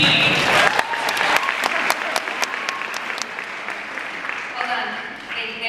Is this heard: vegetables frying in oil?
no